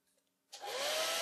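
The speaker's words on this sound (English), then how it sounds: "So go ahead and use your dryer" After a brief quiet moment, a hair dryer switches on and blows steadily with a loud, whooshing hum.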